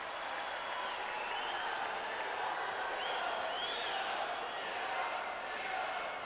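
Crowd at a Sheffield Steelers ice hockey Super League game against the Nottingham Panthers, a steady wash of distant chanting and arena crowd noise that holds at a constant level throughout.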